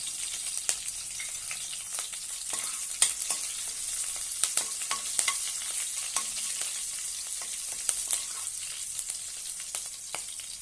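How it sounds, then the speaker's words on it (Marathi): Chopped green chillies and cumin seeds sautéing in oil for shepu bhaji, a bright steady sizzle with scattered crackles and pops and a few soft stirring scrapes, heard alone. "तीन हिरव्या मिरच्या बारीक कट करून घेतलेल्या आहेत ते घालूया छानपैकी परतून घेऊया अर्धा चमच जिरे घालूया"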